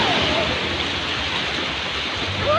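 Sea water splashing and washing at a beach, a steady dense wash of water noise with no distinct breaks, close and fairly loud.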